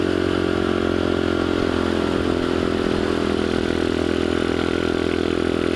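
A Dax 125cc Toro motorcycle engine running loud and steady close by, with a constant mechanical drone and rattle and no other sounds.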